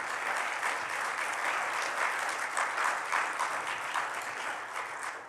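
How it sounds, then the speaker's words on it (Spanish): A church congregation breaks into sustained applause during a Spanish-language sermon, a thick, steady roar of many clapping hands that swells slightly midway and eases toward the end, with no speech over it. "Esto es algo para darle un aplauso a Cristo."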